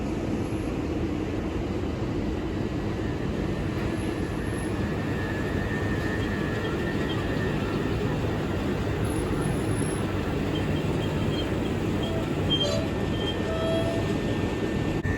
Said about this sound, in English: Now departing is the 1358 Southern service from Clapham Junction to Milton Keynes Central.